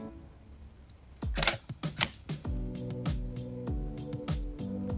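Canon EOS 1500D shutter firing repeatedly at a slow shutter speed, a run of sharp close mechanical clacks and clicks, some in quick pairs, with no speech.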